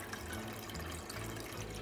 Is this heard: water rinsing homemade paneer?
yes